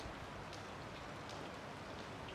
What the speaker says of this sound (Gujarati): આમાં વરસાદ આવે છે ના ભાઈ